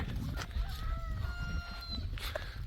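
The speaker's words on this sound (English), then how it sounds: "Rooster." A rooster crows once in the evening in a rural Spanish village along the Camino del Norte between Ribadeo and Lourenza, a clear mid-distance call over faint background ambience.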